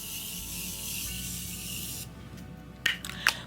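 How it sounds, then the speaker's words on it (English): Morphe Continuous Setting Mist sprayed onto a face, a long, steady, hissing mist for about two seconds, close to the microphone, followed by a few short clicks. "Now I'm going to go on with this Morphe Continuous Setting Mist, and I'm going to spray my face."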